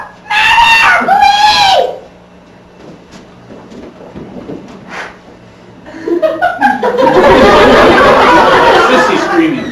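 Woman screaming in a 2008 mystery drama, two loud sustained high-pitched screams early, followed by quieter sounds and then a burst of agitated overlapping voices and commotion.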